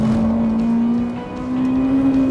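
Ferrari 458 driven at speed on a racetrack, a loud, sustained high-revving engine drone held steady, dipping briefly and then climbing again, with no voices.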